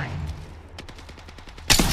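Rapid burst of weapon fire in the game APECS Leghorn, a quick even run of about ten sharp shots at close range, ending in a louder blast.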